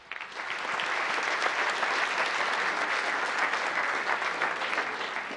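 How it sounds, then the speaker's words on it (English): A room full of people at a town council meeting claps steadily, a dense, even patter of applause that swells quickly and holds without voices on top. "A big round of applause for Group 2 as they go back to their chairs."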